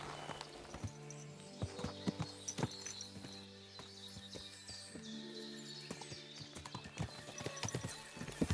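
Horses clip-clop on a path in the medieval video game Kingdom Come: Deliverance II. Their steady hoofbeats play over soft sustained background music, and faint bird chirps come through.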